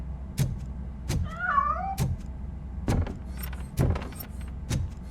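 A cat in the Robocop Rogue City video game gives a short wavering meow early on, set among repeated dull thuds and clanks of game footsteps and mechanisms, with no talking.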